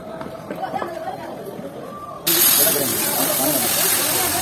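A large paratha hits a big griddle at a roadside food stall, bursting into a loud continuous hiss and sizzle after a stretch of crowd chatter and voices, with people talking underneath.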